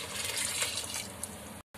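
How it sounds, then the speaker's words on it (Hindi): Chicken yakhni stock is poured from a vessel into raw rice for a chicken dum biryani, giving a steady, close, splashing gush of liquid that stops abruptly after about a second and a half. "अब हमने ये अखनी का पानी जो हमने रखा हुआ था वो इसमें ऐड कर देंगे।"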